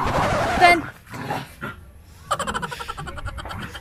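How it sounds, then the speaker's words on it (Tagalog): A dog barks and yips in short bursts close by, with a person talking over part of it. "lipat tayo kasi ang ingay ng aso"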